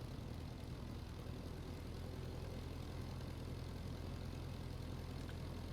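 An aircraft engine drones in the World War I flight game IL-2 Flying Circus, a faint, steady broadband roar holding evenly throughout without clear changes in pitch.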